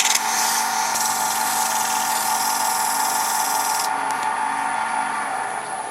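A thin, long wooden spindle being sanded on a lathe gives a steady, bright, high-pitched whirring hiss that stays near and constant, with a slight change in tone partway through and no talk.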